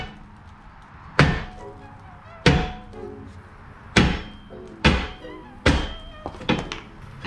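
A brake rotor coming loose from a car hub during a brake job, heard as five loud, separate metallic thunks spaced about a second apart, close by with no talking.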